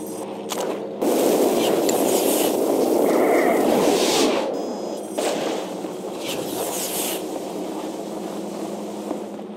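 Air defense turrets in SWTOR fire at a Republic dropship: a loud burst of booming, crackling blasts with a rushing roar, swelling for several seconds and then easing into a quieter sustained rumble with scattered distant pops.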